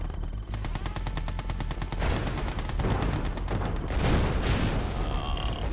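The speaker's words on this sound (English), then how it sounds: "we've got the big airborne artillery kicking in" Airborne artillery fire in the video game Red Alert 2, with rapid, regular volleys of shots and booming impacts rattling on in a dense barrage.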